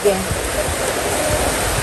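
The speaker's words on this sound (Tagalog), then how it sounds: "Lumakas pa po lalo ang ulan." Dense, loud, unbroken roar of heavy rain pouring down, with no pauses.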